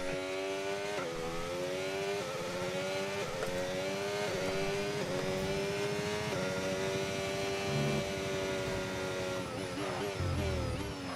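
An F1 car engine in a racing video game with a realistic engine mod revs steadily and loudly, a high buzzing whine that rises and falls with gear shifts, continuous throughout with no talk.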